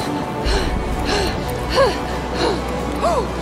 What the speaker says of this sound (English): Who's breathing super heavily up there?